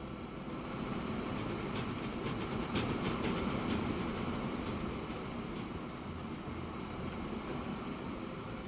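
Freight train in Transport Fever 2 rolling along the rails with a steady rumble and faint rhythmic clicking, moderately loud and without voices.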